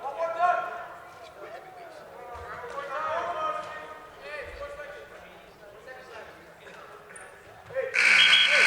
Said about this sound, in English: And there's the buzzer for the end of the second round.